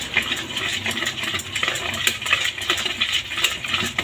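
Steady scraping and clinking of a utensil stirring a thick basbousa mixture in a bowl, continuous and close, with no voices.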